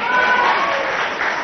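An audience claps steadily throughout at the Rising Chhattisgarh 2023 stage event in Raipur, a dense, even wash of applause from a sizable crowd.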